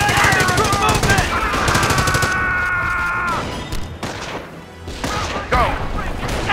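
Rapid machine-gun bursts and booming gunfire from the PC strategy game Company of Heroes: Tales of Valor clatter loudly in repeated volleys, briefly easing off, with shouted in-game voices mixed in.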